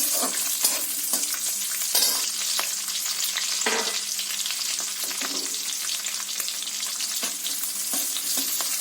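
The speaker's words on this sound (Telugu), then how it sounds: "జీడిపప్పు ఫ్రై చేస్తున్నాను, పచ్చిమిరపకాయలు వేస్తున్నాను" Cashews and green chillies fry in a pan for carrot rice, making a dense, continuous crackling sizzle with stirring clatter throughout, close up and without any voices.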